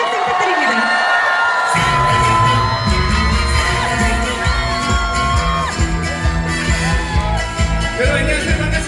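An outdoor festival crowd cheering, whooping and applauding as a singer takes the stage at a lotus festival, loud and close, with shouts and whistles over strong thumping bass from the stage sound system.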